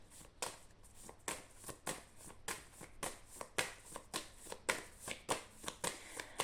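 Oracle cards are shuffled and drawn by hand in a quiet room, making a steady run of crisp, close riffling flicks and snaps at a brisk, regular rhythm, with no talking.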